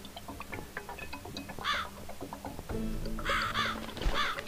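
Harsh bird caws sound in the horror adventure game The Cat Lady: one rasping call, then a quick run of three more toward the end, over a dim, ticking ambient background.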